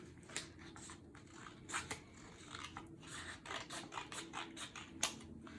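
Paper strips cut with scissors for a woven paper bag craft: a run of quick, crisp snips at an uneven rhythm, close and fairly quiet, with no talking.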